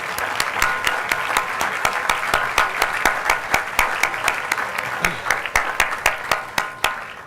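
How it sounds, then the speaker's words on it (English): A crowd applauds steadily, many hands clapping in a dense, sustained wash that continues for several seconds. "Let's give them a round of applause."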